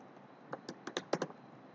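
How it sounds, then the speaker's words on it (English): About eight quick clicks from typing on a computer keyboard, close and crisp in an irregular burst, faint hiss between strokes, no voices. "and here you type Chrome"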